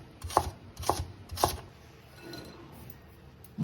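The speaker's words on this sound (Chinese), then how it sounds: "然後我們先給它切片，然後再切成細絲" Three sharp, close knife chops strike a board as taro is sliced for a Minnan stir-fry, followed by a quieter stretch and one more cut at the end.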